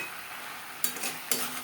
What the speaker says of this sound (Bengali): মশলার সাথে আলু 3-4 মিনিট নাড়াচাড়া করে নেব